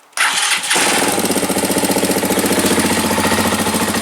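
A small Tbr7 lawn tractor engine with a faulty voltage regulator cranks and catches within a second, then runs loud and steady with a rapid, slightly uneven chugging rhythm.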